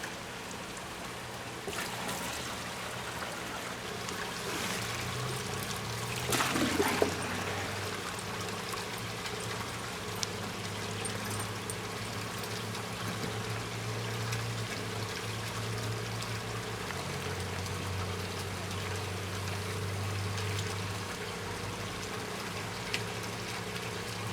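Water pours steadily into a container holding Showa koi, a continuous splashing trickle that runs unbroken with no one speaking.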